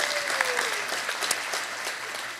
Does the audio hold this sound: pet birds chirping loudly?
no